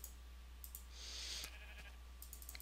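A sheep in the video game Minecraft gives one short, faint bleat over a low, steady background hum, followed by a few small clicks.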